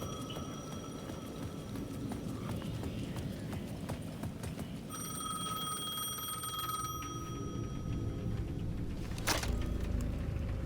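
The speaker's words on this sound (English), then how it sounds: "The payphone at the edge of the plaza was ringing again." A payphone rings at the edge of a plaza in the video game Alan Wake 2. A steady electronic ring sounds for about two seconds midway through, over a dense, constant layer of game ambience.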